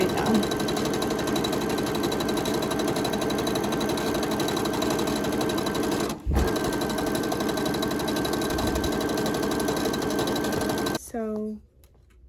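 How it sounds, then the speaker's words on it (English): A sewing machine stitching a straight seam on a bikini top, a close rapid mechanical whir that runs steadily, pauses briefly, resumes and then stops with a few winding-down clicks. "put back down the foot, and then just sew straight down"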